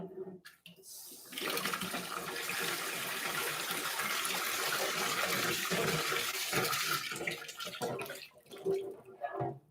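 Water gushing from a tap into a small sink used as a water bath for a yeast starter, a steady rush that starts abruptly, runs for several seconds, then stops.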